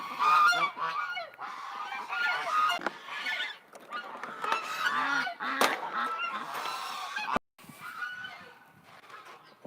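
Ducks in a pen honk and quack loudly and almost nonstop, a dense, close chorus of overlapping nasal calls with a brief break near the end.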